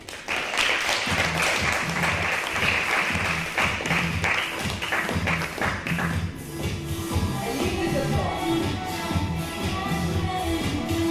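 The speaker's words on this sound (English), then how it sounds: "Please applaud." Audience applause at a Paris business forum on the future of work, a steady dense clatter of many hands that gives way to scattered claps, shuffling and low thumps as the room settles.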